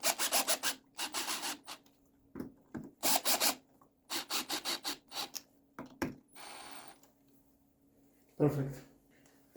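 A security camera wall bracket is fastened with screws, giving short bursts of rasping, scraping turns in irregular groups, close and fairly loud, with a brief hum and clatter between.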